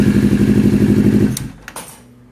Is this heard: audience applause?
no